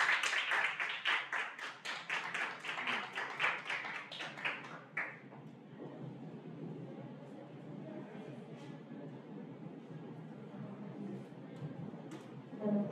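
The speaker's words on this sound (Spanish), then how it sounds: "Démosle la bienvenida con un fuerte aplauso." An audience at an illustration and design talk claps for about five seconds with fairly close, crisp hand claps. The applause then stops, leaving a quiet room hum with a few faint taps.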